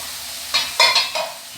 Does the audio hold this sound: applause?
no